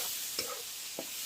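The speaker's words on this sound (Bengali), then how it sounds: "এগুলো ভালোভাবে নেড়ে চেড়ে বাদামি হওয়া পর্যন্ত আমি ভালোভাবে এগুলোকে ভেজে নেব" Chopped onions with cinnamon and bay leaf fry quietly in a pan under a faint hiss, with two short spatula strokes stirring them.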